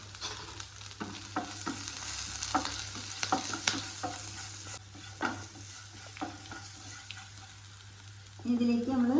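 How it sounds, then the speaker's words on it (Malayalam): Turmeric powder and chopped green chillies are stirred into onions frying in a pan for a drumstick-leaf and lentil stir-fry, a steady sizzle broken by repeated scraping spoon strokes, close and clear, with a brief louder clatter near the end. "അതിലേക്ക് ഒരു 1/4 ടീസ്പൂൺ മഞ്ഞൾപ്പൊടിയും 3 പച്ചമുളക് അരിഞ്ഞതും കൂടി ചേർത്തിട്ട് നന്നായിട്ടൊന്ന് ഇളക്കി കൊടുക്കാം"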